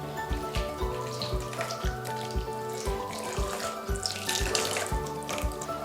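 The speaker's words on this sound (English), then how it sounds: "So now the cream is nice and hot, so we're going to pour this over the chocolate." Hot cream poured over chocolate for homemade truffles in a kitchen, a steady close liquid pour and splash with a faucet-like running-water quality, continuous for several seconds with no talking.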